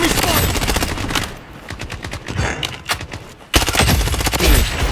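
Automatic gunfire in the shooter game Blood Strike comes as loud, rapid bursts of shots that briefly ease off and then resume at full intensity.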